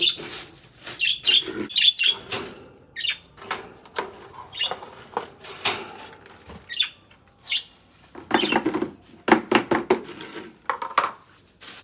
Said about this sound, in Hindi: ऑस्ट्रेलियन पैरट्स मुझे घर में बहुत ज़्यादा अच्छे लगते हैं। इनका चहचहाना, इनका बोलना, इनका शोर करना